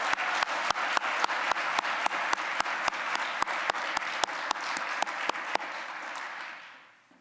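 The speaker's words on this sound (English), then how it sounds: "Another round of applause for Andrew, please." A university arts convocation audience gives steady applause, with one sharp clap cutting through at a regular beat, before the clapping fades out over the last second or two.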